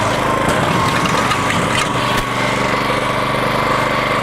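A Toro Greensmaster 1600 walk-behind reel mower cuts grass on a Saturday afternoon, its engine drone steady and close with a constant whirring hum and no breaks.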